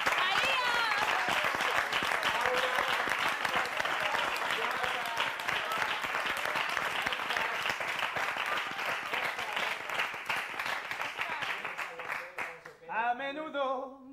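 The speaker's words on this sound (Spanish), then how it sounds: "Es que damos un aplauso a todos." Studio audience applause for all the contestants at a televised talent show gala, loud continuous clapping lasting around twelve seconds before fading, with a voice speaking briefly once it dies down.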